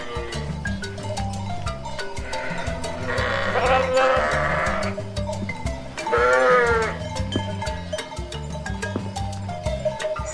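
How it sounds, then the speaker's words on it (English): Sheep give two loud, quavering bleats over a cheerful repeating children's tune with light bell-like notes. "Sheep."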